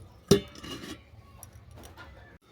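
A lid is set onto a cooking pot with one sharp metallic clank, followed by a brief rattle and faint kitchen clatter.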